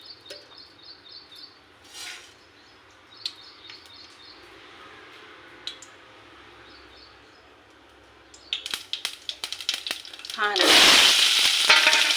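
Spinach, green chillies and spices frying in a pan. A faint sizzle and scattered clinks are joined by a chirping bird, then a sudden loud burst of crackling sputter takes over near the end.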